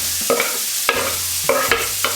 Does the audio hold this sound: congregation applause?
no